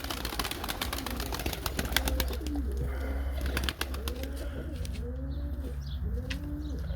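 Young pigeons being trained to land coo repeatedly in low, soft rolling calls close by, with fluttering wing flaps and a constant outdoor hum underneath.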